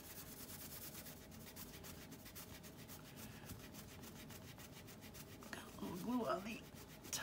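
Glue is rubbed off a journal page with soft, steady scratchy friction strokes, close and quiet, ending in a brief louder rustle.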